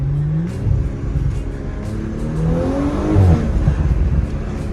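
A 2018 Audi S5 3.0T on its stock intake makes a drive-by pull, its engine note climbing and swelling to a peak as the car passes, then fading. No one speaks.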